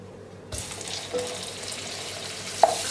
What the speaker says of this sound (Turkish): karıştırarak tereyağı erimesini sağlıyorum